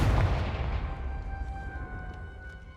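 Confringo spell blast in Hogwarts Legacy: a loud booming burst right at the start that decays into a fading rumble with lingering tonal ringing, no voices over it.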